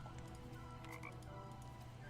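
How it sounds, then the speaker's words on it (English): A frog croaks in the swampy Boggy's Bog setting of the Detective Grimoire video game, with a steady chorus of croaks and chirps layered over a constant marshy background hum. "it makes a frog noise!"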